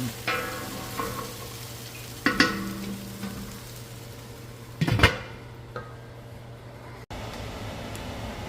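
Carrots and parsnip cook in a stew pot with beef, giving a soft continuous simmer and sizzle, broken by a few sharp clinks and scrapes of a utensil against the pot.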